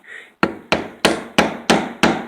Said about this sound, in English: you hammer it in there and break it off